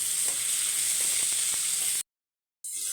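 Tomatoes and curry leaves sizzle and fry in a pan, a steady close hiss with small crackles that cuts out for about half a second before resuming.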